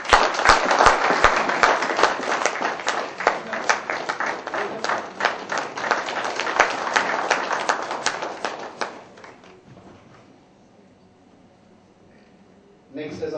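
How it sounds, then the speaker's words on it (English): A crowd at an HR summit claps steadily for the guest of honor, a brisk round of applause lasting about nine seconds before fading into a quiet hall. "Can we have a round of applause"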